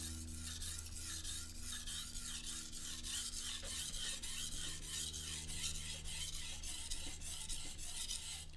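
A knife blade is drawn across a sharpening stone in steady, repeated rasping strokes, close and even in rhythm, with no talking.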